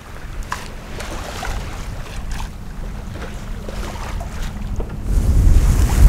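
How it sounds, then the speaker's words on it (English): Wind and waves wash steadily around a sailing yacht in the Whitsundays off Hayman Island, with breezes of 5 to 15 knots and one reef in the sail; a continuous rushing bed of noise grows louder and gustier near the end. "the wind's a little bit inconsistent today"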